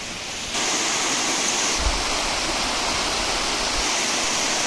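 Steady broadband rush of Ermayi waterfall, continuous and fairly loud, rising after the first half second and holding at an even roar with no voices.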